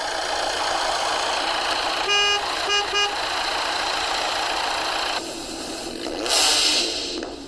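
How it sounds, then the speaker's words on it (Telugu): A car passing at speed, a continuous loud engine rush with brief horn-like tones, fading and shifting near the end, with no voices. "ఇది కార్, అంటే స్పీడ్గా వెళ్ళే కారు."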